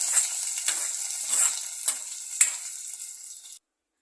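Loud, crackling sizzle of mustard seeds popping in hot oil, with sharp spattering bursts, then it cuts off abruptly.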